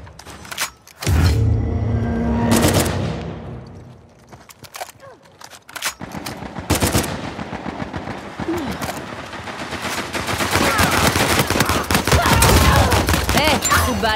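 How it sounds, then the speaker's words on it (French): Grenade explosion and bursts of automatic gunfire in Uncharted 4 multiplayer: a heavy blast, then sharp rapid shots and rattling fire that build into a loud, dense barrage, close and continuous. "Je lance une grenade."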